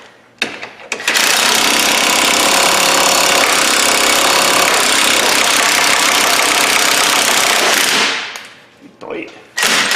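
Air tool hammering out a lower ball joint on a Ford Escape, a loud, close, rapid pneumatic rattle lasting about eight seconds before stopping, with brief pauses at the start and end.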